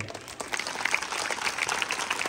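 An audience at a Bhim Jayanti celebration's Home Minister game show clapping, a crowd of hands in uneven bursts that swell and stay lively, moderately far with no talk over it.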